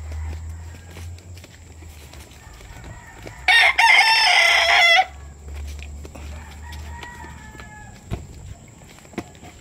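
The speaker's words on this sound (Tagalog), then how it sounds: "Mga magulang manok nila dyan" A rooster crows loudly and close by at a game farm, one long call standing out over a steady low hum, with scattered clucks and faint footsteps around it.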